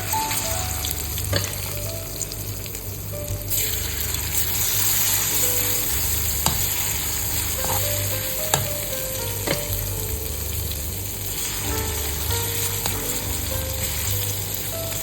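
Marinated soya chunks go into hot oil and fry steadily, a dense, continuous sizzle with occasional crackles and stirring clinks running close and loud throughout.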